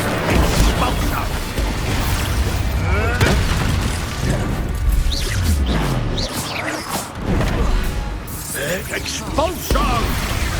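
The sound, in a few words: Expulso explosion spell cast in Hogwarts Legacy video game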